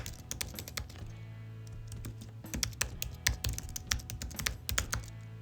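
Rapid keystrokes on a computer keyboard while an email address is entered, the clicks coming in uneven bursts, close and clear, with a pause near the middle before a denser flurry of taps resumes.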